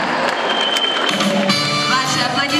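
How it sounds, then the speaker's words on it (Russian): An audience applauding at a dance award ceremony, a dense continuous wash of clapping from a large hall crowd, steady and fairly loud throughout. "Ваши аплодисменты, ребята."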